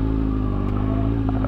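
Kawasaki Ninja ZX-6R sport bike engine on a ride, a loud steady close-up drone with wind and road noise throughout and no voices.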